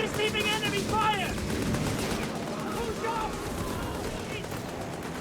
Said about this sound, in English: Artillery coming in out the back.